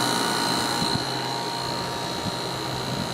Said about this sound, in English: That compressor sounds great.